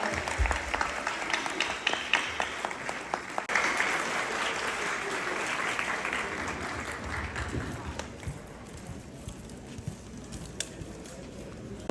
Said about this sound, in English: please give a round of applause for our dancers